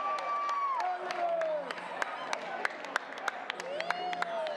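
Spectators at a 3x3 basketball final, FIBA 3x3 AmeriCup 2022, clap and cheer with distinct claps ringing out across the arena while a commentator talks over them.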